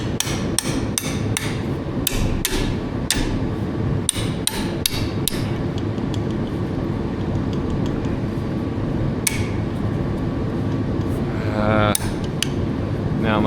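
Sharp metal hammer blows on a punch or chisel against an A4T rear axle, a rapid series of loud ringing strikes in clusters, close up over a steady low background hum.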